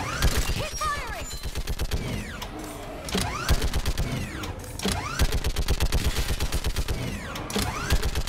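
Sustained rapid gunfire rattles through a Mass Effect 3 battle on Thessia, loud continuous bursts with mechanical clatter and occasional shouted voices in the mix.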